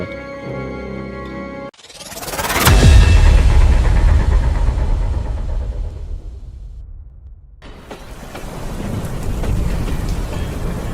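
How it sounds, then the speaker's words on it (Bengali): A sharp thunderclap rolls into a long, deep rumble over falling rain. The rain keeps hissing after the thunder fades, then swells heavier again. "অন্ধকার আকাশে গড় গড় করে মেঘ ডাকছে বৃষ্টি কখনো মুষলধারে ঝুপঝুপ করে কখনো অল্প কমে টিপ টিপ করে পড়ছে"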